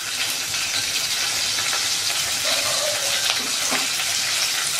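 Hot oil sizzles and crackles steadily as cumin seeds and curry leaves hit the pan, a dense hiss with occasional pops and faint stirring.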